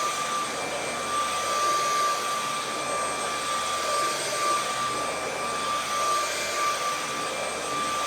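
A Vexilar V15 vacuum cleaner runs in turbo mode, a loud, steady motor roar with a high whine that holds unbroken and alone for the whole stretch.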